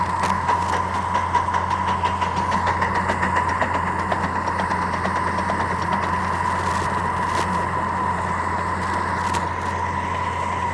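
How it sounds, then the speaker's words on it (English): Model train air compressor running as a steady mechanical hum with a faint rhythmic chugging beneath, muffled and constant for about ten seconds with no talking. "That's the air compressor running."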